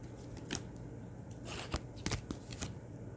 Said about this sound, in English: It makes it easier to shuffle because they slide.